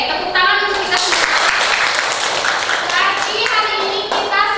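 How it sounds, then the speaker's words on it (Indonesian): A school class claps hands together in a classroom, a dense burst of clapping mixed with children's and adult voices talking over it. "tepuk tangan untuk kita semua"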